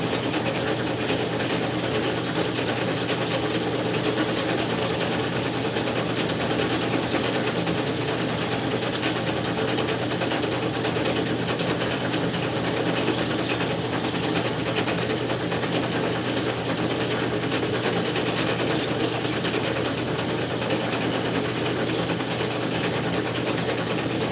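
An engine runs continuously with a dense, even mechanical whir and rattle, loud and steady without pauses or voices.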